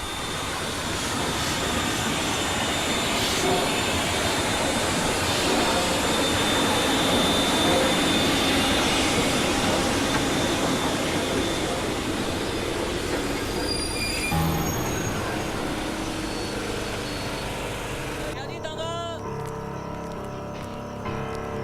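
The Frontier Mail train arrives at a station with a loud, sustained rumble and the squeal of its wheels, rolling steadily for most of the stretch. The sound fades toward the end as the train slows.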